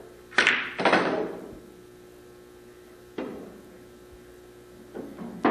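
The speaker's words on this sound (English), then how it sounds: "draw the cue ball back up the table for my next shot on the 4" Pool cue tapping the cue ball from a one-hand bridge on a billiards table, heard as a few sharp knocks with ringing tails at irregular intervals over a low steady room hum, no talking.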